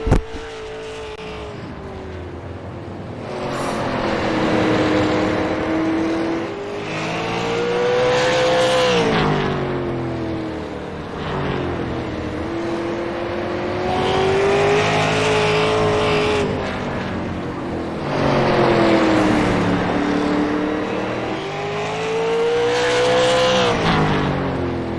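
Super late model race cars from the Spent Dreamz Tri Track Championship run qualifying laps at Southern National, engines droning loud and steady as they rise and fall in pitch through repeated cycles of acceleration and lifting, with occasional tire noise.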